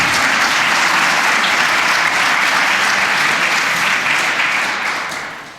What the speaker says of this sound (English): Can I get an applause for the panel, please?